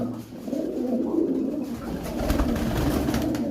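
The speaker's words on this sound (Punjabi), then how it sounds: "ਬਹੁਤ ਸ਼ਾਨਦਾਰ ਕਬੂਤਰ" Domestic fancy pigeons of pure breeds, kept by a pigeon keeper, coo in soft, low, continuous warbles close by, with no talk over them.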